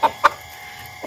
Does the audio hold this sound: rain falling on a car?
no